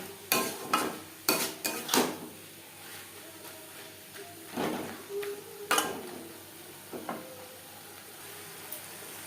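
Several bursts of scraping and stirring in a pan as garam masala is mixed into chicken patty filling, clustered at the start and recurring intermittently, with quieter gaps between.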